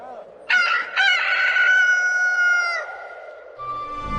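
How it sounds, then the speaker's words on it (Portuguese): A rooster crows loudly and close in a long drawn-out call with a stuttering start, alone, followed by quieter background sounds. "o galo cantou pela segunda vez."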